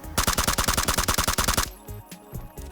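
A gun in PUBG fires a fast automatic burst of about fifteen loud, evenly spaced shots, then stops abruptly, leaving only fainter game sounds.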